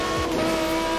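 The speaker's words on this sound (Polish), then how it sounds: "Jezu, ale ta M4 jest bardzo nieproporcjonalnie głośna" Loud, steady drone of a BMW M4 engine revving in the video game Forza Horizon 4, continuous and close throughout.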